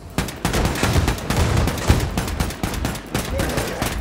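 Gunfire in the shooter game Wolfenstein II: The New Colossus, rapid automatic bursts and heavy shots in a continuous, loud barrage close up.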